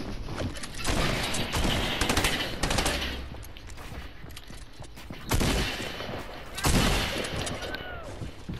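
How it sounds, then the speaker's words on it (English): Gunfire in the video game Fortnite comes as rapid bursts of automatic shots and scattered single cracks, loud and dense, with players talking over it. "Are they shooting?"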